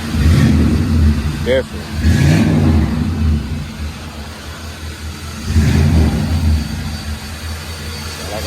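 A Chevy engine with its exhaust pipes routed out the back, running at a low, throaty rumble with a couple of rev swells under short bursts of nearby talk.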